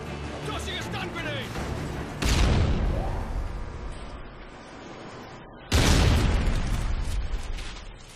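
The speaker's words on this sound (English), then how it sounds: "Tossing a stun grenade!" A stun grenade goes off during a round of Search and Destroy in Call of Duty: Ghosts, giving two loud booming bursts a few seconds apart that sit over ongoing game noise, with voice chatter throughout.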